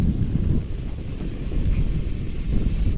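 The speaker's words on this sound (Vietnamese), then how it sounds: "Gió núi thổi vù vù, mang theo chút se lạnh." Mountain wind gusts steadily in the Zagros range, a loud, rumbling rush buffeting close around with no voices.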